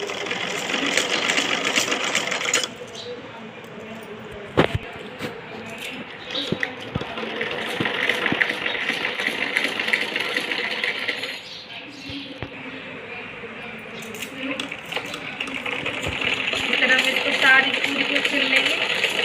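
Sewing machine stitching the sleeve of a kachli, humming steadily and close for a long stretch with brief changes in pace, under a person talking.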